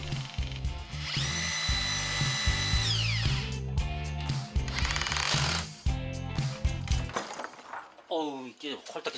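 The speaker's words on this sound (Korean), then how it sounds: "과연 구멍을 잘 뚫을 수 있을까요?" A power drill bores a hole underwater, whining and grinding steadily for several seconds with voices talking over it, then cutting off near the end.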